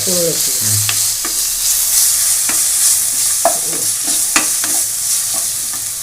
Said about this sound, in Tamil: இப்போ நல்லா ஒன்றா போட்டு மிக்ஸ் பண்ணிவிடுங்க.